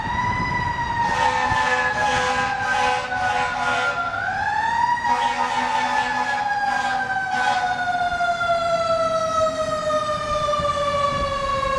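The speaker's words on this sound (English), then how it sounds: "see, there's sirens already." Emergency vehicle sirens wail through a city during a storm, a loud rising and falling electronic tone that sweeps up and down continuously, with a second siren pattern layered over it for most of the stretch.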